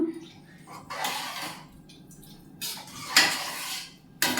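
A spoon clatters and scrapes against a metal pot while vegetable biryani ingredients are mixed, several bursts of clinking separated by short quiet pauses.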